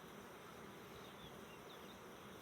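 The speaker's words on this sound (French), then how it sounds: "c'est vraiment plein d'abeilles" A dense, steady hum of many honeybees buzzing close by at an open hive, continuous and even, with no voices.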